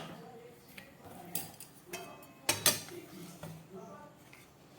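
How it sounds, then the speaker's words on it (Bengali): A lid comes off a cooking pot of simmering Bengali masoor dal bora curry (red lentil fritters in gravy), giving a few close metallic clinks and clatters, the sharpest in the middle, over a quiet background. "এবার ঢাকা খুলে দেখাচ্ছি।"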